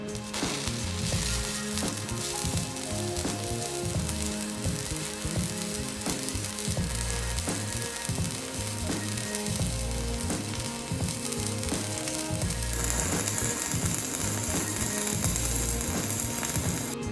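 A Weldpro MIG155GSV welder stick welding on 110 volts gives a continuous crackling, frying sizzle at close range, steady for the whole stretch with no talking.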